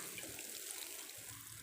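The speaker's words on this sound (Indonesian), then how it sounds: "gembornya itu kita bawa, lalu kita siramkan ke tanaman kangkung yang" A watering can pours water steadily onto dry-land water spinach beds, a soft continuous hissing trickle at low volume with no voices.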